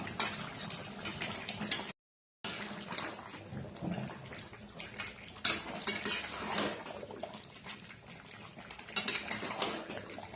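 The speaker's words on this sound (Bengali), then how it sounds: "এবার আমি ভেজে রাখা আলুটা দিয়ে দিই।" Fried potatoes tipped into a cooking pot of mutton kosha (goat meat curry), with close clattering and scraping of a utensil against the pot over steady bubbling and sizzling that stop briefly and then resume.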